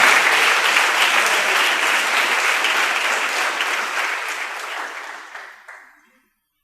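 A church congregation applauds in a dense, steady wash of clapping that holds strong for about five seconds, then thins and fades to silence near the end.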